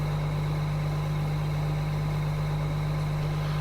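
An old tractor engine idles steadily with a low, even drone and a constant hum, close by and unbroken, with no voices.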